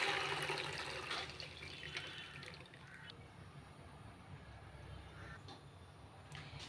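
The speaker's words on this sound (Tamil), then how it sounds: "இப்போ இந்த தண்ணியை ஃபில்டர் பண்ணிடுங்க" Cooking water from boiled peanuts pours and splashes through a strainer, a steady watery rush that is loudest at first and then settles into a softer trickle.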